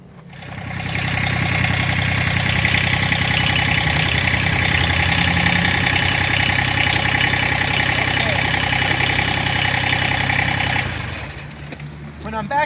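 A Massey Ferguson tractor engine idles steadily and loudly nearby, a constant diesel rumble with even mechanical chatter that holds for about ten seconds before dropping away at the end.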